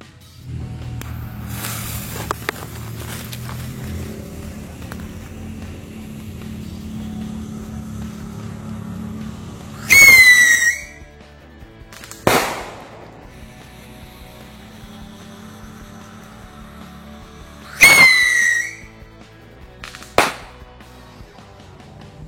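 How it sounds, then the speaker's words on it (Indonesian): Two bottle rockets whoosh upward with sharp whistling launches, each followed moments later by a crisp pop, outdoors with faint background hum between them. "sekarang kita nyalakan mercon luncur yang sedang"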